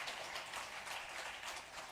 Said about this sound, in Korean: 우리 한번 일어나 주시고 뜨겁게 한번 박수로 격려하겠습니다